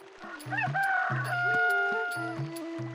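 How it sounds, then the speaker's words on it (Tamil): A rooster crows over a backdrop of steady, tuneful music. "கோழி கூவியதும் தாமரை கண் விழித்தாள்"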